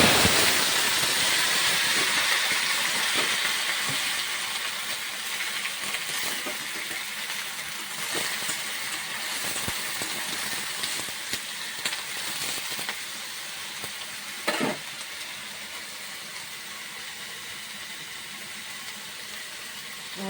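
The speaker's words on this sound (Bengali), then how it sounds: "এদিকে তেল গরম হয়ে গেছে এখন আমি সবজি দিই" Vegetables dropped into hot oil for a Bengali eggplant, potato and puti fish chorchori: a steady broad hiss of frying that starts loud and slowly eases, with faint crackles and pops throughout.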